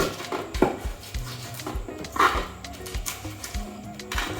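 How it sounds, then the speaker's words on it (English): Food is ground by hand in a large grinding bowl in a kitchen in Accra, Ghana, giving irregular scraping and knocking strokes with a few sharper clunks against the bowl. "you just have to grind it until it is completely grinded, like it would be in a blender."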